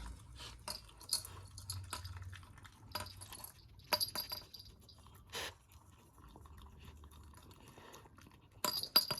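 A pet dog eats meat and rice from a bowl, making faint, scattered clicks and soft clinks over a low, steady background hum. The sounds are quiet and uneven, with a few slightly louder taps.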